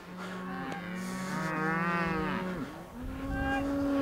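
Several cattle moo on a farm field, with long overlapping lowing calls that rise and fall. They are close and loud, one call following another with little pause.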